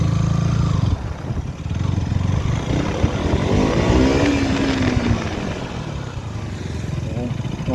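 KTM RC200 GP Edition motorcycle engine revving and accelerating, a steady loud drone with rising pitch sweeps, close to the rider, with wind noise throughout.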